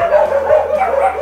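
Several dogs barking and yipping at an animal shelter in Fiji, a steady overlapping chorus close by with no talk.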